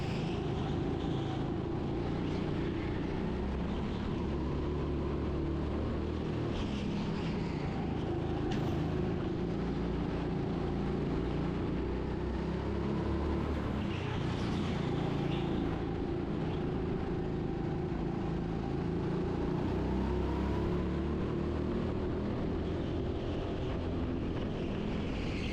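A kart runs laps on an empty indoor track at TeamSport Sheffield, giving a steady, continuous engine drone that rises and falls slightly through corners, with no talk over it.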